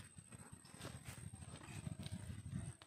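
A female horse walking on hard ground gives a quick run of soft clip-clop hoof steps, faint and fairly close, in a quiet setting with no talk.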